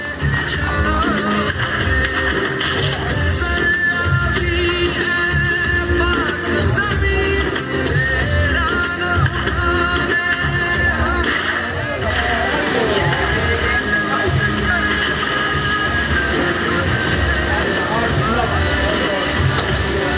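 An audience at an oath ceremony and annual award distribution gives sustained, dense applause and crowd noise for a guest coming on stage, steady and loud throughout, with babble mixed in.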